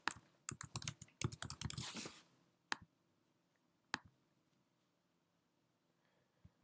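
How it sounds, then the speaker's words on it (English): Rapid typing on a computer keyboard entering a location into an ad-targeting form: a dense burst of crisp keystrokes, then a few isolated clicks spaced out over a quiet background, close-up with no speech. "I'm going to type in worldwide"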